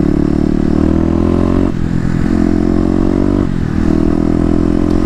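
Kawasaki KLX250 dual-sport motorcycle accelerating from a green light, its engine droning loudly with rising pitch, a brief dip around a gear shift partway through, then pulling hard again close up.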